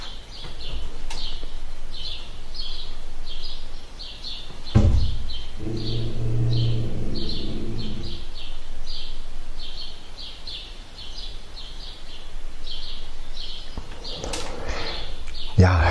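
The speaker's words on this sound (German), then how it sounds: "so genieße ich denn immer das Vogelzwitschern" Small birds chirp repeatedly outdoors in a steady series of short, high tweets, moderately close, with a brief low rumble partway through and a faint voice in the background.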